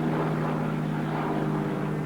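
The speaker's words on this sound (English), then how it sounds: "And the slower, fatter plane tries to catch up." Propeller plane flying in an old film, a steady droning engine roar with a constant low tone, loud and continuous with no voices.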